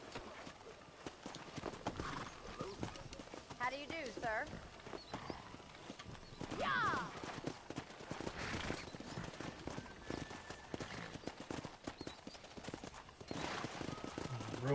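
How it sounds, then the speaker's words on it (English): Horses clip-clopping and whinnying in the Red Dead Redemption video game, steady hoof beats with a few neighs among game sounds, faint overall, with voices talking over them. "Let's see if we can't wrangle some horses."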